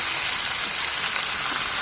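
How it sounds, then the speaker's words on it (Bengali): Fish fry in hot oil in a wok, a dense, steady, close sizzle that carries on without a break. "মাছগুলো এপিট ওপিট করে ভালোভাবে ভাজা করে নিতে হবে।"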